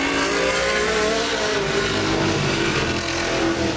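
Race cars roar away together at the start of a Thursday night feature at Laird Raceway, a loud, steady layered engine drone with rising revs, close and sustained throughout.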